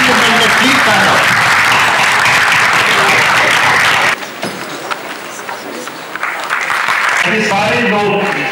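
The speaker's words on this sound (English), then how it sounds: "this entire team, cast and crew of Masaan, does need a loud applause from all of us, a standing ovation for these two characters" Loud applause and a standing ovation from a film festival audience for the cast and crew of Masaan, steady dense clapping that drops off abruptly partway through, then picks up again with voices over it.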